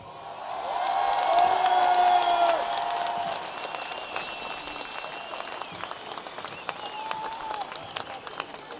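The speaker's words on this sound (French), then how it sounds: "j'aimerais vous entendre applaudir très fort le très joli violoniste et violoncelle que nous avons sur scène" At a live show in Nancy, an audience applauds a violinist and cellist on stage, with loud, dense clapping that swells and then fades into scattered claps and cheers. A voice speaks faintly underneath.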